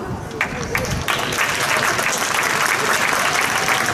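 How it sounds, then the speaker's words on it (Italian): An audience at an outdoor Miss Piazza Armerina beauty pageant claps, applause rising and holding steady and dense, with a voice speaking over the first moments. "Lo accogliamo con un applauso"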